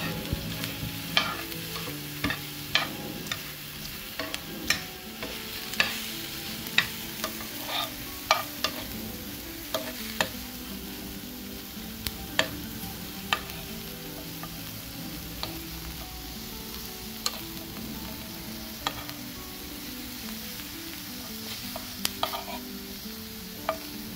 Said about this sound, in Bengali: পেঁয়াজটা আমার এক পিঠ ভাজা হয়ে গিয়েছে